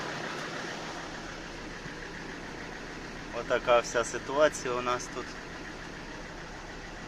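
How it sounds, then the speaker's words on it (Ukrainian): A cold engine idles at about 800 rpm with a steady, low hum throughout, with a short stretch of talking over it partway through. "це на холостих це поки холодний двигун 30 градусів"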